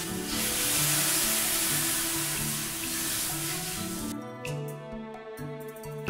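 A hot wok in a Chinese kitchen sizzles loudly as vegetables are stir-fried for a noodle soup, then water pours in and the hiss gives way to a calmer, bubbling clatter near the end.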